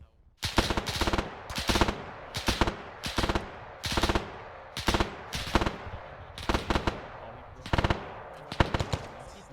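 Rapid bursts of automatic gunfire in a Stalingrad-set World War II video game battle, loud repeated volleys about once a second, each a fast rattle of shots with brief gaps between them.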